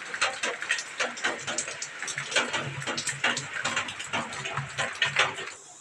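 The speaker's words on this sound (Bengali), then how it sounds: "আবার বৃষ্টি, দেখছো কি অবস্থা," Rain patters in uneven bursts of drops, close and moderately soft, landing on a hard surface with a steady background hiss.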